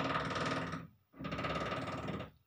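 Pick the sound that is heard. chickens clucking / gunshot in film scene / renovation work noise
renovation work noise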